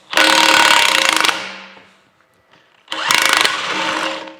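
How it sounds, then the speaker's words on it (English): An impact wrench hammers at long square-head bolts on an old Chattanooga No. 14 cane mill, two loud rattling bursts separated by a near-silent pause. "I'm going to see if I can screw them out using an impact wrench."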